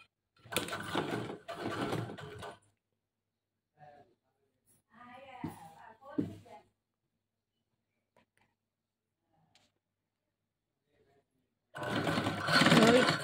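A pico machine stitching a fall onto a saree, with loud bursts of rapid machine whirring at the start and end and someone speaking quietly in between.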